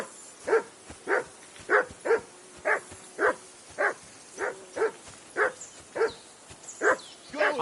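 In Kingdom Come Deliverance 2, a dog barks steadily in a camp scene, about a dozen sharp, evenly spaced barks, close and loud with nothing else competing.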